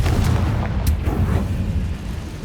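A Confringo fire spell bursts in Hogwarts Legacy, a loud booming blast with a sharp crack near the start that rolls into a dense, rumbling low roar over about two seconds.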